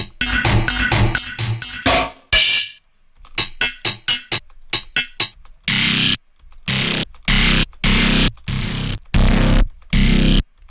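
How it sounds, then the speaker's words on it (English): Heavily distorted, tube-style saturated audio processed in Ableton Live, heard as loud, choppy bursts of gritty, crunchy sound separated by abrupt silences, then broader harsh blocks repeating in a stuttering rhythm. "You have dynamic tube, which is a type of distortion where you pick different types and add input drive to distort it."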